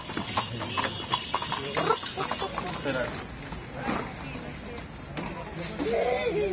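Horse-drawn carriage during a village charity event: rapid, irregular hoof clip-clops on pavement with crowd murmur and a voice talking over them.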